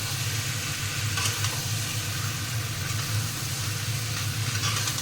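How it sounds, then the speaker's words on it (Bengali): Potatoes for a peas-and-potato aloo dum sizzle and fry steadily in a pan with chilli powder as they are stirred, a dense, constant hiss with soft scraping and no voices. "এখন দিয়ে দেওয়া হচ্ছে আলুগুলো এটা ভালো করে মিক্স হবে"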